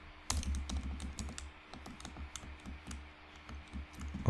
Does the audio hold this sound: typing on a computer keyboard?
yes